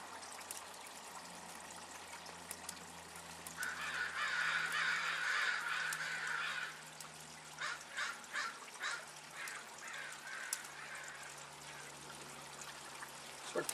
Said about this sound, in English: Crows are making some peculiar noises.